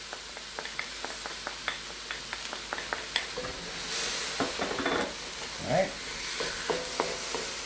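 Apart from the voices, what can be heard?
stir-frying Chinese broccoli with oyster sauce and sesame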